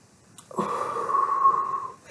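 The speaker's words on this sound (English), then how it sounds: "Take a deep breath." A single deep, drawn-out breath taken as a stress-relief exercise, starting after a short pause and held steady for about a second and a half, close and fairly loud with a wheezy, airy tone.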